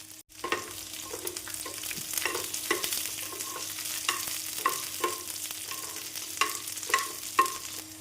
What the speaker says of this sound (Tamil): நாம் மீடியம் ஃப்ளேமில் வைத்து வெண்டைக்காய் பிசு பிசுப்பு தன்மை போகும் வரை வதக்கி எடுத்து விடலாம்